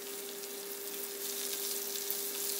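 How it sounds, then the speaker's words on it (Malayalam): Prawns frying in oil over a medium-low flame, a steady close sizzle and crackle with a faint tonal hum underneath, no voices. "മീഡിയം ടു ലോ ഫ്ലെയിമിൽ ഇട്ടിട്ട് വേണം പ്രോൺസ് ഫ്രൈ ചെയ്തെടുക്കാം."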